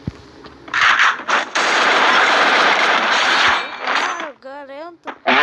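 SVD rifle fire in a video game: loud, rapid, crackling bursts of gunfire that run almost continuously for a few seconds and then give way to quieter scraping and warbling game effects.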